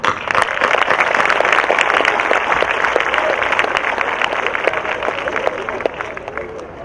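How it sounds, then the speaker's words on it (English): A large crowd at a high school graduation ceremony in Hoboken applauds the mayor, with dense, steady clapping and a few faint cheers that hold throughout before gradually easing. "please give a big round of applause for our Mayor"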